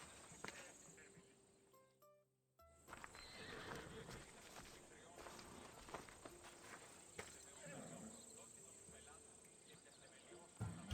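A horse in Assassin's Creed Odyssey whinnies and clip-clops along, faint hoofbeats and snorts under game ambience and a brief musical chime, with a person talking intermittently over them.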